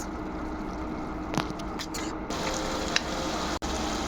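Spices are stir-fried in a pan, a steady sizzle and frying crackle with occasional scrapes and stirring clanks, moderately close and continuous.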